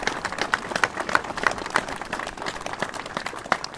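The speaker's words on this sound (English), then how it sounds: "I'm going to let a round of applause for that because they deserve it" Audience clapping at an outdoor memorial ceremony on Slapton Sands, a moderate scattered round of hand claps with irregular individual claps standing out, fairly distant and soft.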